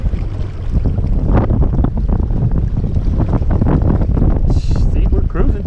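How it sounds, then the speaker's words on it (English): Wind buffeting a microphone on a lake while out boating, loud gusty rumbling blasts throughout, with a person talking over part of it. "it looks like the wind died down just a little bit"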